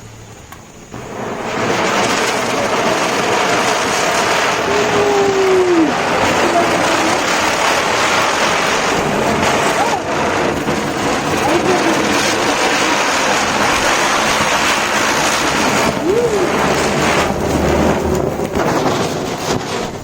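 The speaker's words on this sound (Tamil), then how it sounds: "விண்வீல் அப்படின்னு சங்கு சக்கரத்தை கொளுத்தி பார்க்கலாம்" A ground spinner firework (chakkar) burns with a loud, continuous roaring hiss that holds steady for nearly twenty seconds, close to the microphone, with faint background voices briefly audible.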